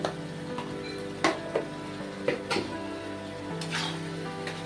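Spice paste with cumin and coriander powder frying over medium heat: a soft continuous sizzle with several sharp spoon taps and scrapes against the pan, close up, with no talking.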